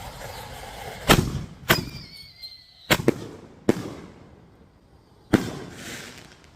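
A mortar board of launch tubes fires fireworks shells on fast fuse. Five sharp, loud launch thumps come in quick, uneven succession, with a faint whistle between the booms.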